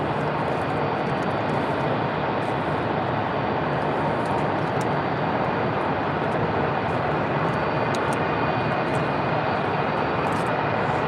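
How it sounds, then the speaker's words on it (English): Jet aircraft at San Diego Airport produce a loud, steady, broadband engine roar that runs through the whole stretch without pause, with no voices over it. "We're at San Diego Airport."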